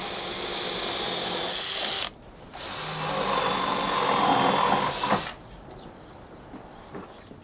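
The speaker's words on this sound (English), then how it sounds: "I'm going to drill a 13 mil hole through our ribbon plate" A power drill bores a 13 mm hole through a timber ribbon plate, whirring steadily for about two seconds, stopping briefly, then boring again for nearly three seconds with a rougher, straining tone before quieting.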